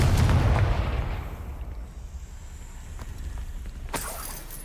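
A Confringo blasting spell goes off in the Hogwarts Legacy video game: a loud, close booming blast opens and rumbles away, followed by a smaller sharp burst near the end, with no talking.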